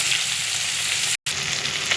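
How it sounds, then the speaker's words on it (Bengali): Prawns frying in hot oil, a dense, even sizzling hiss heard up close, broken by a brief cut of silence midway. "চিংড়ি মাছটা ভেজে দেব।"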